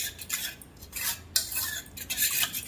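A spoon stirs spiced tempered yogurt with fresh coriander in a metal pot, a few close scraping and clinking strokes in uneven rhythm with no talking.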